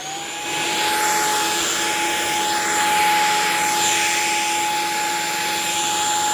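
Shark stick vacuum cleaner running on carpet, a loud steady motor whine with a sharp tonal hum and airy rushing noise that swells slightly as it is pushed back and forth, no talk.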